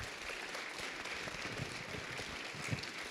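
Audience applause with some cheering at a talk by former New York governor George Pataki and historian Max Boot, a steady wash of clapping at moderate loudness.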